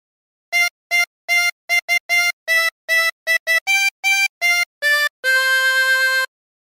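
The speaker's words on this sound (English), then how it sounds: "practice this until you end up with something that sounds like this." Jingle Bells played on a 24-hole tremolo harmonica, alone and close: a run of short, reedy, wavering notes in the tune's bouncy rhythm, ending on one long held chord.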